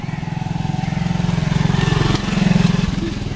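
A motorbike engine drones close by on a riverside road, a rough, pulsing hum that swells slightly as it passes.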